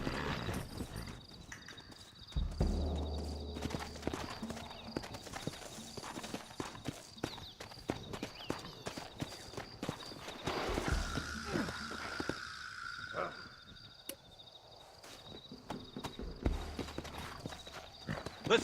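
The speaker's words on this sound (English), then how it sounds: "Looks like Carlos left us some horses" Horse hooves clip-clop in Red Dead Redemption, a steady trotting beat heard fairly quietly, with game voices and other action sounds in the background.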